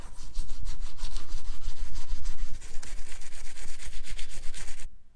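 Close, loud scrubbing of a Tandy 2500 computer case during cleanup, a fast rhythmic back-and-forth rubbing that continues steadily before stopping abruptly.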